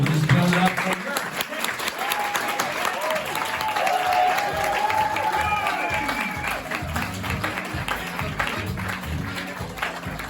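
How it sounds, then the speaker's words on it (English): Steady, moderate applause from a comedy club audience at Boom Chicago, continuous clapping with crowd noise throughout and a voice briefly audible over it. "We'll start with a nice small applause."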